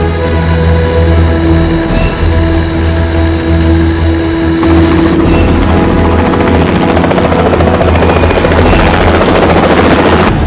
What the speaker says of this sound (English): They were testing a new engine on the helicopter by landing it at an extreme altitude